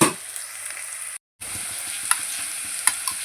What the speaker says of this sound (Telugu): ఇప్పుడైతే మనకి ఉల్లిపాయలు పచ్చిమిర్చి వేగినాయి కదా